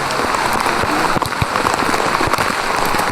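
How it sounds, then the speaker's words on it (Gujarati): Light rain falls near Echo Point in Matheran, a steady dense patter spread evenly across the few seconds with scattered sharper drops, close and moderately loud, with no talk over it. "વરસાદ થોડો વરસી રહ્યો છે"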